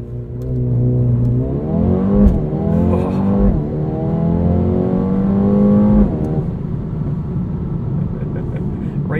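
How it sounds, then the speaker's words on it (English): A 2020 Mercedes-AMG A35 sedan in Sport Plus with traction control off launches hard off the line, its engine note climbing loud and close through rising revs with a quick shift, then settling into a steady drone. "Throw it into Sport Plus. We'll turn off our traction control. And see what it does off the line."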